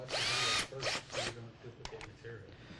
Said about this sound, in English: we're just going to drill the holes here